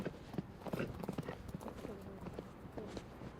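A ridden horse, a young mare, clip-clopping steadily at close range, hoofbeats in an even rhythm with a faint voice in the background.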